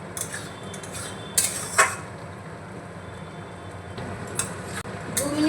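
Egg chilli curry stirred in a pan, a few scraping utensil clanks against the pan over a steady low simmering hiss, with no talking.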